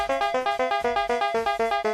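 Dig Dug's drilling and footstep sound from the arcade game, a chiptune-style tone repeating in a quick, steady pulse about five times a second, clean and alone.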